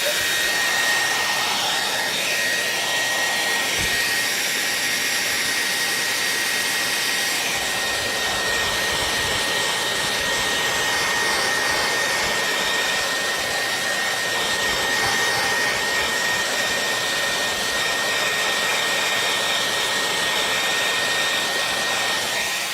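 A hair dryer blows steadily and close for over twenty seconds, a continuous airy whoosh with a faint whine, drying a piece of artwork with no talking.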